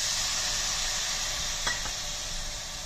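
Balochi chicken with spices, garam masala and lemon juice sizzles in a pan, a steady hiss with a couple of brief utensil scrapes and clinks as it is stirred.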